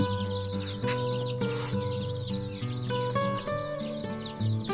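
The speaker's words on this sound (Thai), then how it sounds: "นี่ครับลงมาจิกเป็นเลยนะครับ ลูกไก่ไข่เนี่ย" Laying-hen chicks just moved from an incubator into a nursery crate after three days, pecking and cheeping in a busy, overlapping chorus of short repeated calls, close and steady throughout.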